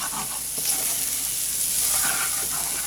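Spices and onions for butter chicken sizzle and crackle steadily in a hot pan, a close, continuous frying hiss with light stirring and no talk.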